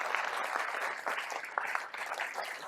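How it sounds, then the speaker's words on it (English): Keynote audience at OPEN Silicon Valley applauding as Sal Khan is welcomed, a brief burst of steady clapping from a large crowd, moderately distant and even, with no speech over it. "So please, a huge, huge round of applause for Sal Khan."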